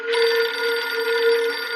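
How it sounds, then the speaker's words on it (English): A telephone rings continuously in a steady, bright electronic tone, loud and close, with no voices over it. "Vashi became concerned and called Menachem's phone at about 11:40"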